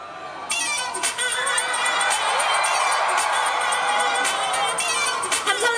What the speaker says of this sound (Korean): 함성이 작은 것 같아.